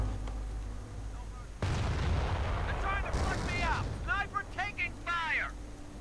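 Calliope rocket artillery fires in a WWII strategy game set in the Ardennes. A sudden, dense rumbling barrage of bursts rolls on for several seconds, and someone talks over the later part.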